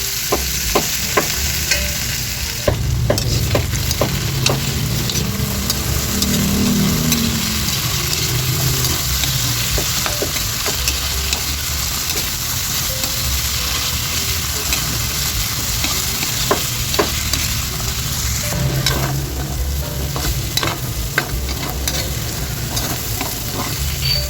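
Potatoes frying in hot cooking oil, a loud, dense, continuous sizzle and crackle lasting throughout, close and unbroken, with occasional sharper pops and stirring scrapes.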